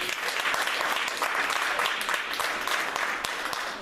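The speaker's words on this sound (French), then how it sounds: "J'aimerais qu'on acclame plus fort." A church congregation applauding during a Sunday worship service, a dense, steady wash of clapping from many hands that stays loud throughout, with some voices mixed in.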